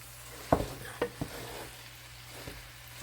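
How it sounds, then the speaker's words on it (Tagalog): Heavy, thick kakanin rice cake mixture stirred in a pot on a flat stovetop, with a few soft scraping thumps and faint sizzling in a quiet room. "Halo-haloin na. Hirap din maghalo yan kasi mabigat."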